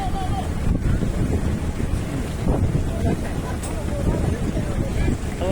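Strong wind buffets an outdoor stage microphone at a rural Thai event, a continuous loud rumbling roar with gusty swells that runs through the whole stretch.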